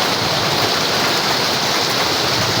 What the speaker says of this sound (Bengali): আপনারা দেখতেই পাচ্ছেন বৃষ্টি হচ্ছে